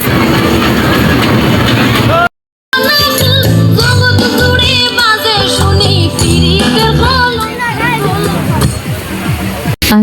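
A fair ride train running at a trade fair in Chattogram, a steady rolling clatter under loud crowd babble and music, with a short drop to silence partway through.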